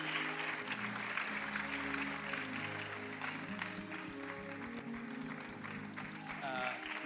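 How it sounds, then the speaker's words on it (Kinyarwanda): A church congregation applauds for God during a gift presentation to a bishop. The clapping is steady and sustained, mixed with music and voices throughout. "twakomera Imana amashyi applaud for God."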